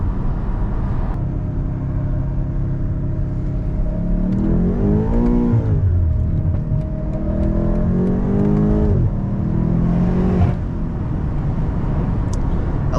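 A BMW M8 Competition being drifted, its engine revving hard with rising and falling pitch sweeps as it shifts through gears, loud and continuous up close with no talking.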